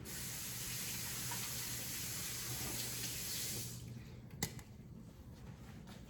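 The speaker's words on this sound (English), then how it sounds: "let me wash this out because I had some broth in there" Tap water runs steadily into a container being rinsed out after holding broth, a continuous splashing rush that stops abruptly, followed by a single clunk and quieter drips.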